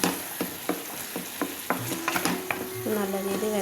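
Squid frying in a pan with ginger garlic paste, with sharp clacks of stirring over a steady sizzle and bursts of bubbling toward the end.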